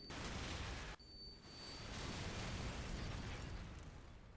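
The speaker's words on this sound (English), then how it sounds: "Oh, straight into the flashbang." A flashbang grenade bursts in a Call of Duty 4 match at a LAN tournament in Stuttgart, followed by a thin, high ringing tone that hangs over a loud wash of game noise.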